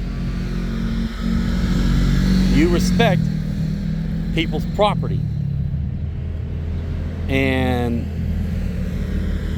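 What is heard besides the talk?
side-by-side off-road vehicles driving by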